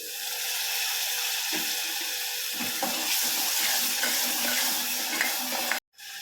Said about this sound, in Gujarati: હવે આપણે એમાં થોડું પાણી એડ કરી દઈશું.